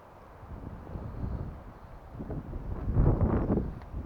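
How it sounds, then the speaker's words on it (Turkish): Wind blows outdoors near a village in the hills: a low, gusty rumble buffets the microphone and swells toward the end, with no one speaking. "Ne güzel esiyor ya."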